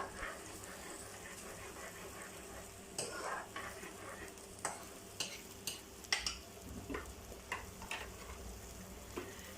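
Onion paste frying in oil gives a steady, moderately loud sizzling hiss, punctuated by a string of sharp scraping and clicking stirs that grow more frequent toward the end.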